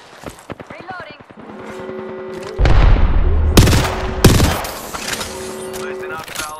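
Video game battle gunfire, heavy close bursts and booming shots layered over background effects, with voices talking during the exchange.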